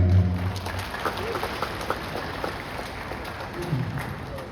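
An audience at a Muhammadiyah university Eid gathering claps in a dense, steady patter of applause that fills the room, with a voice briefly heard at the start.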